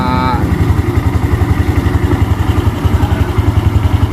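A Honda Revo Absolute motorcycle engine runs close by with a rapid, even chugging pulse, and a brief voice is heard at the start.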